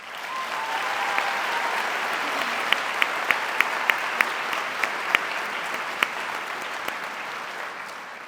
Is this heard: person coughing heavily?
no